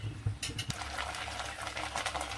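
A spoon stirs soy sauce and tomato sauce into Gobi Manchurian in a pan, giving soft scraping and a gentle sizzle, with a few clinks at the start.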